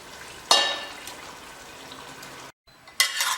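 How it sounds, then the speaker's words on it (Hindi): Mutton pieces coated in spices and yogurt are mixed in a pot for mutton korma, giving a sudden scraping burst, a long soft wet churning, a brief pause, then another louder round of stirring, close by with no voices. "अब इसे अच्छी तरह से बढ़िया मिक्स कर लें, सभी मसालों को और दही को।"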